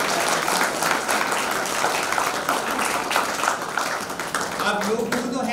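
An audience at a yoga event applauds, a loud, dense spread of clapping with sharp individual claps standing out, sustained throughout with some voices underneath toward the end.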